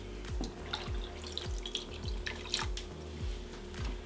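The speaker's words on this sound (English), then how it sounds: "I am going to put in 3 cups of water" Water pours into a pot of pizza soup base in a home kitchen, a soft steady liquid splashing with repeated low gurgles and drips, fairly quiet and heard alone.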